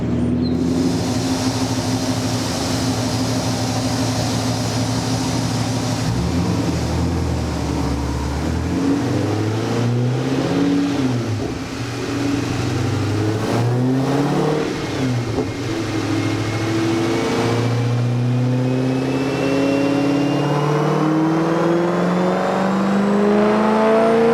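A car engine with headers and a large intake roars steadily and loudly on a dyno, revving up and down in long sweeps with a deep, throaty drone throughout.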